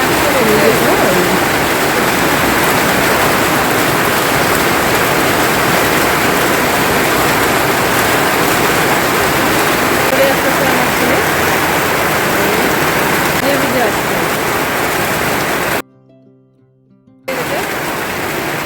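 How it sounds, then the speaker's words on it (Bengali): Heavy rain pours down in a loud, dense, unbroken hiss that drops out briefly near the end before resuming. "এত বৃষ্টি করছে, বৃষ্টির মধ্যে চলে আসছে।"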